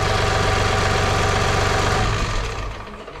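A John Deere 3046R compact tractor's three-cylinder Yanmar diesel idles close up with a steady, even chugging pulse, then winds down and fades toward the end, with no talking.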